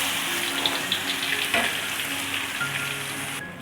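Pounded spice mix sizzles and fries in hot oil in a pan, a steady close crackle that runs throughout with no talk.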